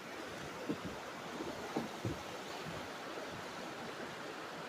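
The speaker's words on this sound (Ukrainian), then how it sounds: "міст хитається, річка така бурхлива досить." A turbulent mountain river in the Ukrainian Carpathians makes a steady, full rushing roar close by, broken by a few faint knocks and no talking.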